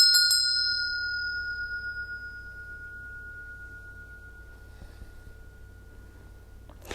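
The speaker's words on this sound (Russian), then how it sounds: "Этот колокол был сделан на заказ, и это магический колокол." A custom-made bell tuned like Tibetan singing bowls is struck once, giving a bright metallic ring with a pure sustained tone that slowly fades with a gentle wavering over several seconds, followed by a faint soft tap near the end.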